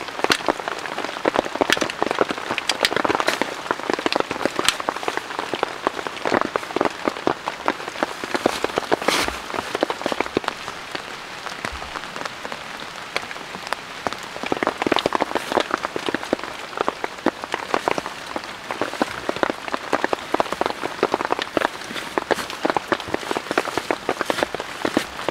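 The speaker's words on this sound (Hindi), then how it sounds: "और ऊपर से बारिश।" Heavy rain falls steadily in a forest, with dense patters and drips on leaves and ground throughout, and no voices.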